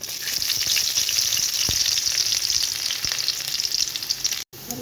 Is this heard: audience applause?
no